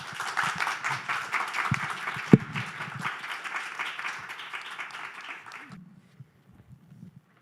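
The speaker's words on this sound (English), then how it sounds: "So big round of applause for them, and thank you very much." A conference audience at an animal welfare talk applauds the speakers with sustained, lively clapping that carries for several seconds, then cuts off abruptly into near silence with a few faint sounds afterward.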